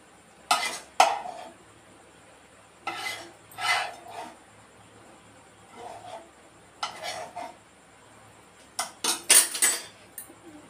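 Seasoning is stirred into semiya (vermicelli) pulihora with a spoon, producing repeated scraping and clinking against the pan in uneven bursts, close and fairly loud, with no speech.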